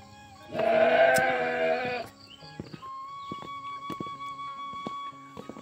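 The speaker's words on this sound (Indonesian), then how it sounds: "suara-suara embek juga sahabat" A goat gives one loud, drawn-out bleat close by in a village setting. Afterward come scattered clicks, faint footsteps and a steady background hum.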